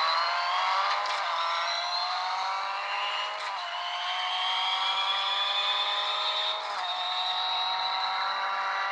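Hyundai i20 WRC rally car in a racing video game, its engine droning and revving loudly and continuously, with brief dips at gear changes, no talk.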